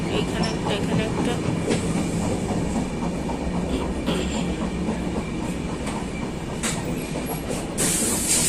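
The Howrah to Puri Shatabdi Express rumbles along steadily, heard from inside the coach as a loud continuous roar with rhythmic wheel clicks over the rails and a brief hiss near the end.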